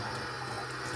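Hot water runs from a tap at full blast, making a steady hissing, splashing rush that stays close and even throughout a short stretch with no voices.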